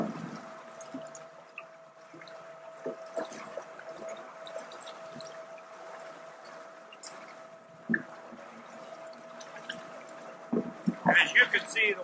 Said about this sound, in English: I'm going to turn on the agitators and add red food coloring so you can see it disperse throughout the